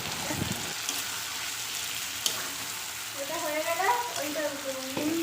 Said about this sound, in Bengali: তো আমি এখানে দই মটর রান্না করতে চলে এসেছি